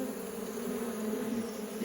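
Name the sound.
honeybee beating its wings at the hive entrance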